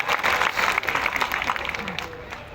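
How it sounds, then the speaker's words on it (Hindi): An audience applauding at a political rally, a dense wash of clapping from a crowd that gradually thins out over about two seconds, with a voice talking underneath. "ताली बजाओ यार इनके लिए।"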